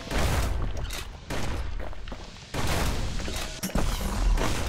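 Musket shots in the video game Bastion, several heavy booming reports at irregular intervals, loud and close, each followed by a short decay under game sound.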